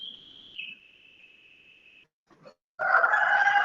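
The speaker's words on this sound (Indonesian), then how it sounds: "Kedengaran suara ayam?" A rooster crows faintly and at a distance, one long drawn-out call with a falling pitch, followed by brief scuffling noise and then louder broadband background sound.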